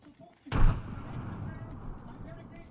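A frag grenade going off in a shooter video game, one sudden loud, booming blast with a long rumbling decay, heard close and under game chatter.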